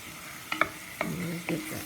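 Flour cooking into a roux in a beef stew pan, a soft sizzle with a few quick scraping stirs close by.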